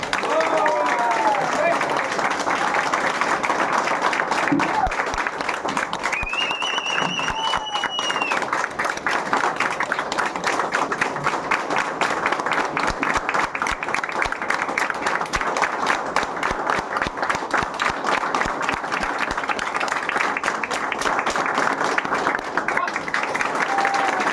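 Sustained, loud applause from a large audience at a celebration event, continuous dense clapping filling the whole stretch, with cheering voices and a brief whistle rising above the crowd.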